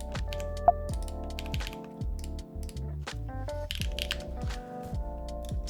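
Typing on a computer keyboard, a steady run of close, crisp key clicks and clacks with a few heavier strikes, continuing for several seconds with no talking.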